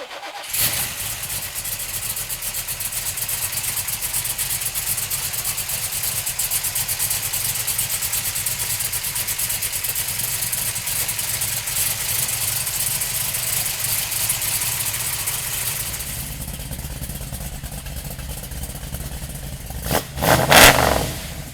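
A 1969 Chevrolet Camaro 396 cranks and fires, settling into a loud, steady rumbling idle close by for a long stretch before the revs drop and a few clunks follow.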